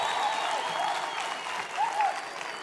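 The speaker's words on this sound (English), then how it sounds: "Start that round of applause, ma'am." A round of applause spreads across a room at a gala dinner awards night, a continuous dense clapping roar with a voice briefly audible over it near the end.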